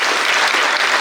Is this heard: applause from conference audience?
yes